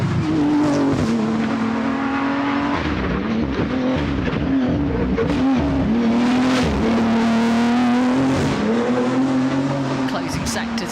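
Toyota Hilux Dakar rally truck on a forest stage, its engine roaring and revving hard as it accelerates and shifts, with a commentator talking over the sound throughout.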